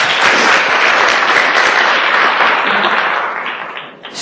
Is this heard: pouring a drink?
no